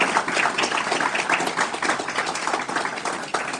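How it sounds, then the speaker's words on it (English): A ceremony audience gives a new police chief a sustained round of applause at a swearing-in, dense overlapping clapping filling the room at a steady loud level throughout. "can we give him a round of applause?"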